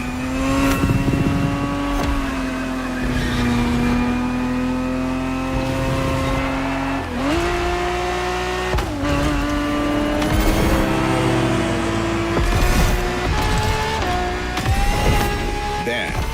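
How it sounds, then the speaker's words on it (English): A Ferrari 365 GTB4 races in The Crew Motorfest, its engine note rising through the gears with sharp shift drops, loud and close, with brief rushes of passing noise and tire sound. "Ferrari 365 GTB4 is the perfect vehicle for you to experience Ferrari racing as it felt back in the 70s"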